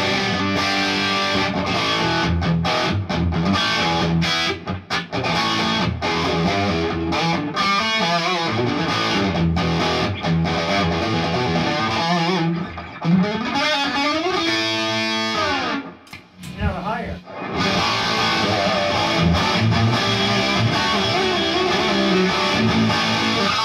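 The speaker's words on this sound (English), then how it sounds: "there's no adjustment for the distortion on the middle level" An electric guitar played through an LS30 amplifier on its middle distortion level, giving a steady overdriven, distorted tone with brief pauses between phrases and no talking.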